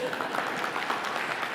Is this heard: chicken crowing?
no